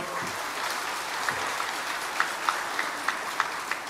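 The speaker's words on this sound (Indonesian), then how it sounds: "Tepuk tangan untuk beliau" An audience at a formal gathering with the Central Java governor applauds a retired army lieutenant general, a steady wash of clapping with a few sharper individual claps standing out near the end.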